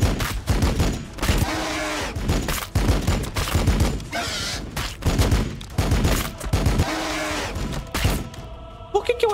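Gunfire from the video game Warhammer 40k Battlesector, heard as repeated bursts of shots and volleys with thuds. It goes on for about nine seconds, loud and near, with no gap between the bursts.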